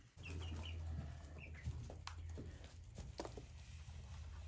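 Chicks and chickens clucking and peeping inside a coop where they are kept together on rainy days, several short clucks and high chirps scattered over a low steady hum, fairly close but quiet.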